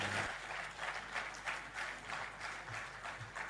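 Audience applause for a professor and university vice chancellor at a Nigerian book launch event, a steady wash of clapping heard from some distance at moderate level throughout.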